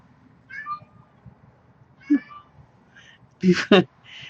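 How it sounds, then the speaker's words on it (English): A cat meows several times nearby, short plaintive calls with a louder double meow near the end, alongside quiet background talk. "got a cat meowing over here."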